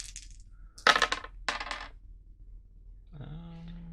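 Dice clatter onto a table during a tabletop wargame between Spartans and Hell Warriors: two sharp, rattling rolls close by, followed by a brief voice.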